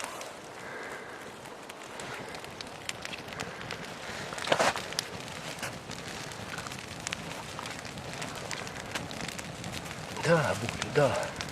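An outdoor campfire of dry, rotten wood burns with scattered sharp crackles and pops over a steady soft hiss, with a voice briefly audible near the end.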